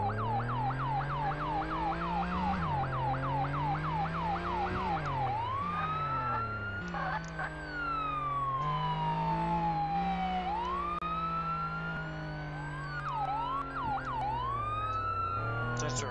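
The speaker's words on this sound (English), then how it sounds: "I'm gonna turn off my siren." A modded police car siren in the video game Flashing Lights, loud and continuous, cycling through rapid yelp bursts, then slower wails, then quicker warbles, over a low engine drone.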